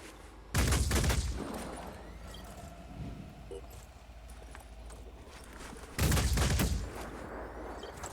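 Two loud bursts of rapid gunfire in the turn-based strategy game Phoenix Point, each lasting about a second and separated by a quieter stretch of ambient game noise.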